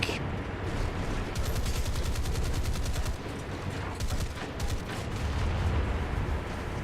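Rapid bursts of naval gunfire from boats in War Thunder rattle continuously over a dense rumbling din, with rhythmic volleys of shots coming thick and fast.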